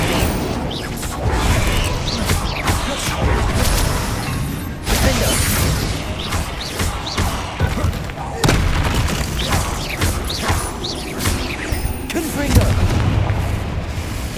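An Incendio fire spell is cast in Hogwarts Legacy, bursting in loud, booming whooshes of flame that repeat several times over a dense, rumbling game soundscape.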